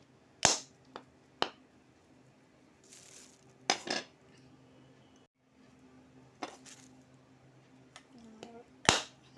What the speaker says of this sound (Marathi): मी आता नारळ नारळ फोडून घेते